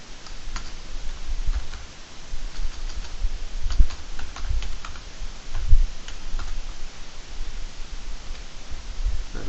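Keys on a computer keyboard are tapped in irregular bursts of close, crisp clicks over a faint steady hiss, with no voices.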